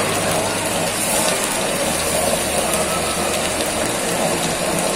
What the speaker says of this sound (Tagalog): Sobrang lakas ang bulwak ng kulo